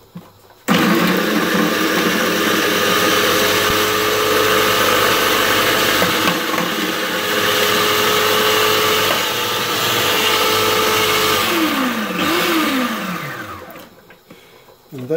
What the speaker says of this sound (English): So all we do in a food processor, it just sort of slices,